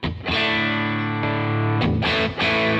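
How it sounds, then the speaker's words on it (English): An electric guitar played through a boost pedal pushing the front of the amp rings out sustained, mildly overdriven chords, with a brief break before another strummed chord rings on. "Now typically I'd have the boost pedal set up probably like that,"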